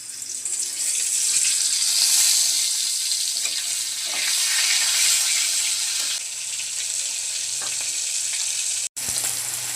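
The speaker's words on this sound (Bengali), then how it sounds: "তেলটা গরম হয়ে গেছে, এখন মাছগুলো দিয়ে দিচ্ছি।" Hilsa fish pieces frying in hot oil in a pan, a steady loud sizzle that holds throughout with small crackles and a brief break near the end.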